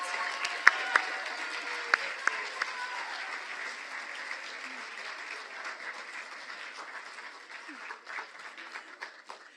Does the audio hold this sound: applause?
yes